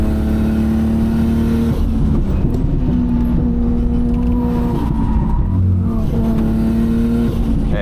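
A Nissan R32 GTR engine revving and misfiring, the loud exhaust rising and falling with ragged stutters and brief drops in tone between pulls, running continuously with no talk over it.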